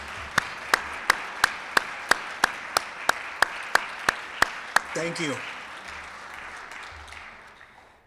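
An audience gives a round of applause for a speaker at a Rotary Club meeting, but the clip mostly holds a dozen evenly spaced sharp claps followed by a brief voice, then fading room noise rather than a full crowd ovation.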